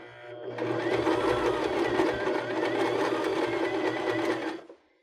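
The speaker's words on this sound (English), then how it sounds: "I've just finished stitching around the entire pillowcase" A sewing machine runs steadily for about four seconds, stitching around a cork fabric pillowcase, with a close, loud, continuous whirring drone that starts abruptly and cuts off near the end.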